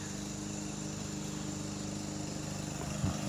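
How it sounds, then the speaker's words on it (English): A lawn mower engine drones steadily nearby, a constant buzzing hum with a brief bump near the end. "My brother's messing around with that lawnmower."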